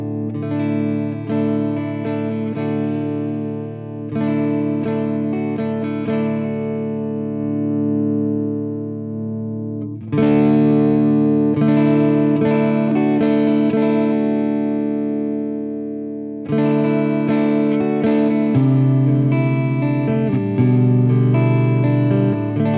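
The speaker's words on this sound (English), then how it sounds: "Let's sweep it, and we should understand that it's a subtle preamp." Guitar played through a Beetronics Larva preamp pedal as its control is swept, three sustained strummed passages with gradually shifting tone, clean-to-slightly-driven and close, no talking.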